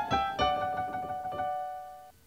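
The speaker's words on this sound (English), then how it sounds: "So at regular speed, that gliss sounds like this." Two quick upward piano sweeps played at full tempo, ringing into a held chord that fades, close and clear with no voices.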